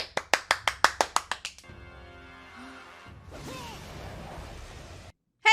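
A quick run of about ten sharp hand claps at the start, fading in strength, followed by whooshing and rumbling effects and a sudden loud burst at the end.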